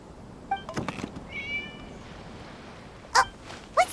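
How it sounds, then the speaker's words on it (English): Cat meowing in Genshin Impact: a few short, bright mews heard close by, spaced apart over a quiet background with light game ambience. "It was just a cat."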